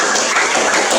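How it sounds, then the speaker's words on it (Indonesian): A classroom of students clapping hands together in a brief, fairly loud burst of overlapping claps. "Oke, tepuk tangan lagi."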